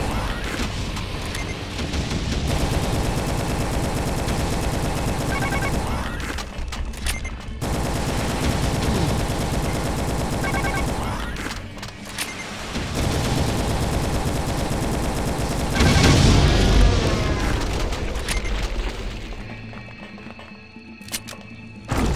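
Rapid, continuous weapon fire from a light plasma rifle in Doom 2, a dense mechanical rattle of shots in long bursts with brief gaps, loud and close, ending in a heavier burst of noise.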